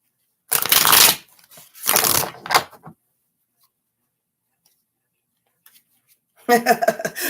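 Several quick bursts of tarot cards being riffle-shuffled close up, separated by silence, followed by a brief stretch of talking at the end.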